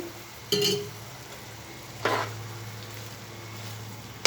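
Dried chela fish cooking with ridge gourd in a pan at home, with two brief stirring scrapes and a soft sizzle over a low, steady kitchen hum.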